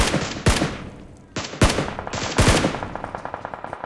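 Rapid automatic gunfire in the video game BGMI, several sharp loud bursts close by followed by a steady run of quicker shots toward the end.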